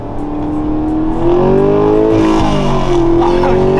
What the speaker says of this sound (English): this is Gino's first pull in the Camaro